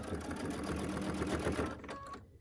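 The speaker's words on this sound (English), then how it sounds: "I'm going to actually sew just right before that fold" A sewing machine stitches up to a quilt corner in a close, steady burst of rapid stitching for nearly two seconds, then slows and stops, followed by a few faint clicks and a quiet tail.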